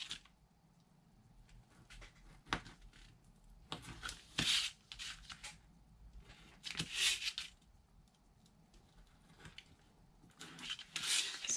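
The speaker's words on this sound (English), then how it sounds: "So I'm just going to cut them out." Two small corner pieces being cut out for a bag: quiet, intermittent crisp snipping and rustling bursts, spaced irregularly, with near silence between them.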